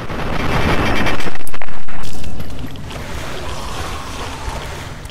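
Wading through water in Fallout 3, a noisy rush of splashing that swells loudly for a couple of seconds, then settles into a softer steady wash of moving water.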